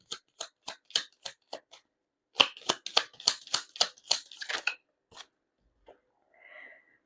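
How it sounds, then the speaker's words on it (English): Tarot cards shuffled and pulled from a deck up close: a series of quiet, crisp riffling flicks in two quick bursts, followed by a few faint soft rustles. "Let's try to pull up this deck. Let's get 3 more cards."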